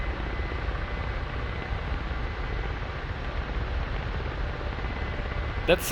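A KA-50 attack helicopter in a flight video game gives off a steady, dense rotor and engine roar that holds constant throughout, with a brief click near the end.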